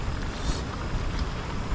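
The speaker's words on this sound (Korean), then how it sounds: "근데 계곡 소리가 여기까지 나." A mountain valley stream swollen by rain rushes steadily, heard from a family campsite in Yeongwol as a constant, dense wash of noise with no clear breaks.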